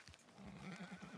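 A horse in the video game Red Dead Redemption 2 Online lets out a brief, quavering whinny, soft and slightly distant, with no talk.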